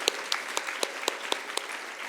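Clapping at an annual business hall of fame dinner, heard as sharp, evenly spaced claps at about four per second, fairly close and steady with no voices.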